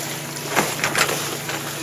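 A trawler's engine rumbles close by as it passes a sailboat at sea, a steady low drone with wind and water wash swelling briefly in the middle.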